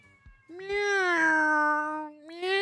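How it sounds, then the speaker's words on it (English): A cat lets out a long, drawn-out meow, then starts another, clear and fairly close, with no talk over it. "you hear the cats in the background?"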